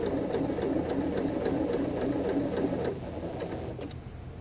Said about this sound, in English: Because we're sewing two things together, we will be back stitching, back stitch.